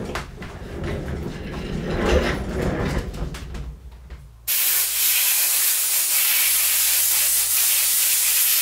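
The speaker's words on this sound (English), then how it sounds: "Now I've got compressed air over here." Compressed air blasts in a workshop while kicker corks are being installed, a loud, steady, broad hiss that starts abruptly midway and holds at close range after a stretch of softer rustling.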